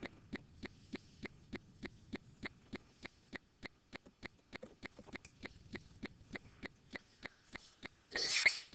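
A faint, steady ticking repeats evenly in the background, then a single short sneeze bursts out near the end.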